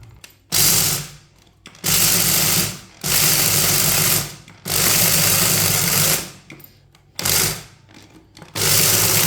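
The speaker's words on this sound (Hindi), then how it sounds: "इसे अच्छी तरह ग्राइंड कर लेते हैं।" An electric kitchen grinder blitzes ingredients in a Punjabi winter recipe, running in loud whirring bursts of one to two seconds separated by short pauses.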